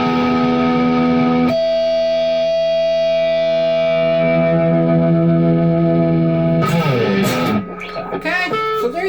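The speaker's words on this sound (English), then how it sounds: "It's the Donner 152s. Pretty nice little guitar." Donner 152s Strat-style electric guitar on the bridge pickup rings out a sustained, bright chord with effects, decaying slowly before several quick picked notes and slides.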